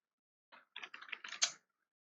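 A short burst of typing on a computer keyboard while code is entered in a Kotlin programming tutorial, with quick light clicks in a close, quiet room.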